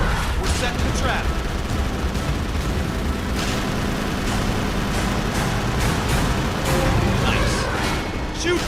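Rapid gunfire from an arcade shooting game, with loud, dense volleys of shots and booms running continuously under excited talk.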